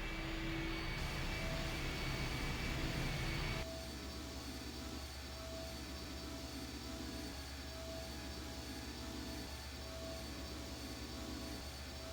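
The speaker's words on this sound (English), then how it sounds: "The engine's starting up again." Steady engine drone from the video game I Have No Mouth and I Must Scream as a vehicle engine starts up, a louder rough burst giving way to a continuous even hum, heard alone.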